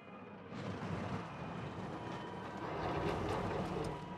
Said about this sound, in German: da fährt ein Zug, da fährt der andere Zug